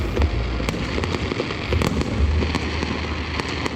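Fireworks burst close by over Abiliana, a rapid run of sharp cracks and booms landing every half second or so over a constant rumbling background.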